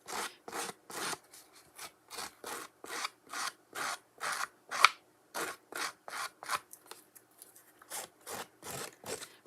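Rough scraping strokes repeat in a steady rhythm, each a short dry rasp of an old scissor blade edge dragged across paper, close and isolated with silent gaps between.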